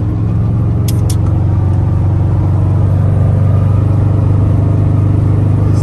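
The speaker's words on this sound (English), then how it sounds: "1200 horsepower truck. Manejando en el freeway con el AC puesto a 90 millas por hora." A 1200-horsepower twin-turbo 4x4 Chevrolet Silverado pickup cruises on a freeway at about 90 mph, giving a loud, steady low engine and road drone with no clear change in pitch and no voices.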